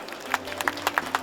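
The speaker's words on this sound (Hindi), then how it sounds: "तो मेरे लिए एक बार ताली बजा दें आप सब लोग।" An audience at a Ramlila event claps in a short burst of scattered, uneven handclaps, moderately close, with no speech over it.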